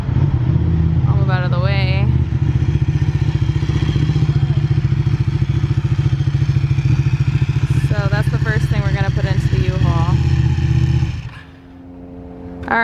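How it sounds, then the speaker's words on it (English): A Ducati motorcycle engine idles loudly and steadily nearby with a deep, even rumble, while a person talks briefly over it before the engine cuts out near the end. "Coming around to bring his Ducati onto the bike."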